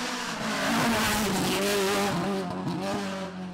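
A historic rally car roars past at high revs on the Killarney Historic Rally, engine pitch rising and falling with gear changes and a brief tyre squeal, loud and close.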